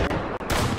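Shotgun blasts in a video game that can double jump, loud broadband bursts filling the clip with a brief gap in the middle, no talk.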